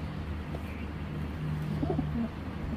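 Racing pigeons at a breeding farm cooing softly, a few low murmuring calls over a steady hum of background noise.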